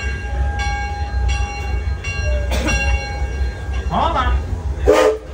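An amusement park ride train at Six Flags Over Texas pulls into the station with a rumble, a sustained tonal horn-like note and brief hissing bursts, with voices of riders in the background.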